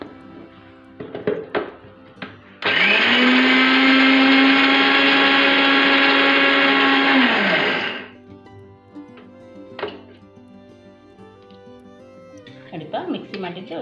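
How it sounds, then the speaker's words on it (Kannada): A kitchen mixer grinder whirs loudly for about five seconds, blending a millet masala roti mix with pumpkin, then spins down. Short clatters and a voice come before and after the grinding. "ಇದನ್ನು ಮಿಕ್ಸಿ ಮಾಡ್ತೀನಿಪ್ಪ"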